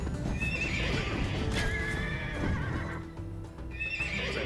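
Horses in the video game Age of Empires II neigh and whinny loudly, with hoof clip-clop beneath, amid busy battle ambience.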